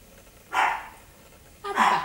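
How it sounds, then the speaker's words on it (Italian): A hungry pet dog barks twice indoors, two separate moderately loud barks about a second apart with quiet in between. "Sapete perché abbaia? Perché ha fame."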